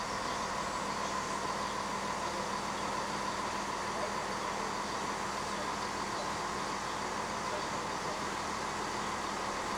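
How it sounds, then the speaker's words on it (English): A Class 168 Clubman diesel train running on the Chiltern Main Line, heard as a steady, even rumble with broad rolling noise that stays constant throughout, with no voices. "The route has been set for our Class 168 Clubman"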